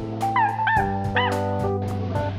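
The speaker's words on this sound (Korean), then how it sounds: "개 짖는 소리." Foley dog barking, a quick series of yips and barks with whimpering, close and clear over a steady low hum.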